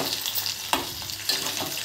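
Cumin seeds sizzle in hot oil in a pan while being stirred for coconut chutney, a steady soft crackle with two sharper scrapes of the spoon, close and without talk.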